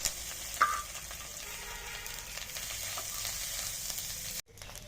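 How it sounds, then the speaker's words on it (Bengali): Steady sizzling of grated coconut frying in a pan with ginger and chilli, a continuous bright crackle with a few clinks of a utensil stirring, no voices. "আদা লঙ্কা ভাজা ভাজা হয়ে গেছে এবারে নারকেল কোড়ানোটা দিয়ে দেবো"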